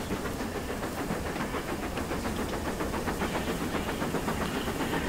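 The blower on steam locomotive 46233 Duchess of Sutherland hisses steadily and loudly, a continuous broadband roar of steam mixed with rumbling engine and rail noise and no talking.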